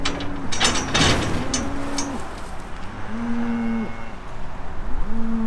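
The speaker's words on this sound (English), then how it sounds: "We are trying every trick in the book here to get these cows moved." Cattle being herded through a hedge-run gateway moo repeatedly in long, loud, drawn-out calls, several overlapping at close range, with no talk.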